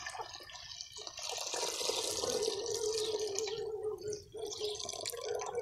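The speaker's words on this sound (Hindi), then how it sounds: "अब हम इसमें डालेंगे पानी।" Water poured into a hot cooking pot gives a hissing, sizzling splash that starts after a moment, runs steadily for several seconds with a bubbling gurgle, briefly dips and resumes, close and fairly quiet, no talking.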